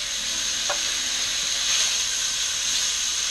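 A full pound of bacon sizzles in a hot pan while cooking for chicken carbonara, giving a steady, close, loud frying hiss with no talk.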